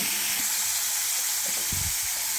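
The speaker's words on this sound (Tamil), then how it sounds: "இதை அப்படியே சிம்மில் வச்சுறேன் நல்லா கொதிக்கட்டும்" Coconut milk bubbles and sizzles steadily in a pan on low heat, making coconut oil, with a dense hiss, a few soft knocks and stirring sounds close by.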